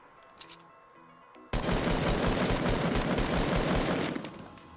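Automatic gunfire in the Fortnite battle royale video game erupts suddenly after a quiet moment and continues as a loud, sustained burst of rapid shots.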